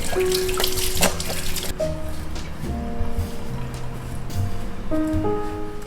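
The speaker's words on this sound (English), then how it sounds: "First you will want is obviously to wash your hands." Water runs from a kitchen tap as hands are washed, a close, bright rush of splashing that is strongest at the start and then eases, with background music underneath.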